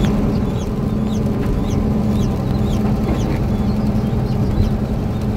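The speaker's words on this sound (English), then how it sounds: "I had to give you Jack's chickens because they showed up a day early" A flock of chickens clucks and chirps at close range over a steady background hum, their calls overlapping in a busy, continuous chatter.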